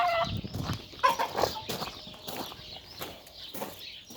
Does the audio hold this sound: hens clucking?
yes